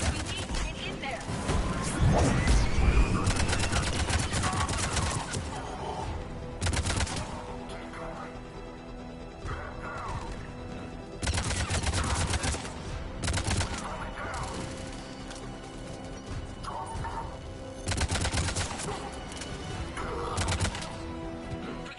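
Gunfire at a checkpoint in the video game Mass Effect 3, with repeated bursts of rapid automatic shots in clusters amid a loud battle din and background game ambience.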